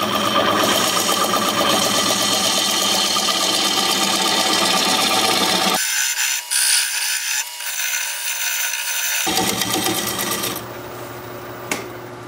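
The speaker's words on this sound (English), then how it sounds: "Now I'm going to use this diamond point tool to square up the sides of the tenon." A wood lathe turns an oak burl under a diamond point tool, giving a steady loud whirring hum with shifting tonal changes partway through as the cut varies, with no talk.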